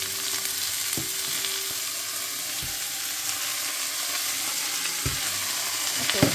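Crushed radish fries with cumin in a hot pan, a loud continuous sizzle and hiss held close throughout, with a few dull knocks of a utensil against the pan and no talking.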